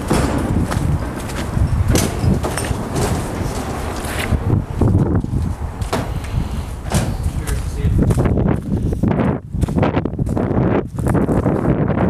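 Gusty wind blows outdoors on a cold day at a new train station on York Street in Fredericton, a steady broadband rush with buffeting bursts on the microphone, plus occasional knocks, across the whole stretch.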